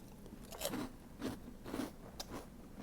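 Close crunching of Monster Munch pickled onion crisps, several sharp bites and chews spaced about half a second apart, loud and near with no talking.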